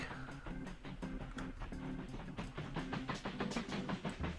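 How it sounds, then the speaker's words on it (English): Oil train rolling along the track in the railway-building game Mashinky, a steady rhythmic clickety-clack of wheels over rail joints with a low rumbling drone, moderately loud and continuous throughout. "So there's our first oil train, and we're gonna go ahead and kind of follow him through the tunnel"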